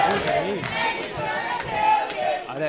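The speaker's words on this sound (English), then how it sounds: "This crowd speaking for themselves." A wrestling arena crowd roars and yells continuously between two wrestlers, a dense wash of shouting voices with a few louder individual yells rising above it throughout.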